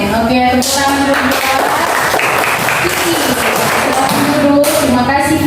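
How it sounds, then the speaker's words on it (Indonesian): A classroom of students claps together in steady, dense applause that fills the room for several seconds, loud and close, with voices mixed in throughout. "Oke, tepuk tangan dulu."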